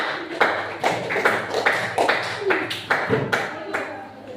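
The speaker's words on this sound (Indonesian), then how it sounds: "Kita beri tepuk tangan untuk kelompok jeruk." A classroom gives a group of students a round of applause: a steady run of about nine sharp, evenly spaced clap bursts, loud and close, with a teacher's voice over them.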